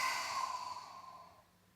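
A single long exhale through the mouth, close and soft, fading out over about a second and a half.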